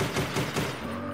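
Rapid gunfire from a Call of Duty Zombies remake game made in Dreams on PS4 Pro, a quick burst of several shots in about a second, fairly faint and steady.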